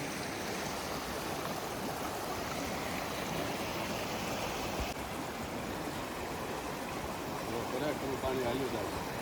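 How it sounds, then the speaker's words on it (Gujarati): Clear river water flowing steadily outdoors in Austria, a broad continuous rushing wash with no break, heard close and fairly loud throughout. "પાણી હાલ્યું જાય"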